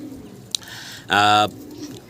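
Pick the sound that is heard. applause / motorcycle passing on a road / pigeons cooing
pigeons cooing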